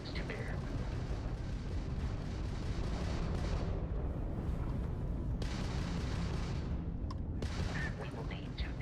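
Spaceship weapons fire in the Starfield space combat game: a dense, loud, continuous roar of booming blasts and rumbling gunfire with brief dips, filling the whole stretch.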